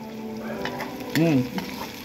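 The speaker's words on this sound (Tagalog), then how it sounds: "Gisa-gisayin lang natin para malansa ang sibuyas at mag-brown ang bawang" Onion and garlic sautéing in a pan for adobong kangkong, giving a continuous sizzle with a short louder tonal scrape from stirring midway.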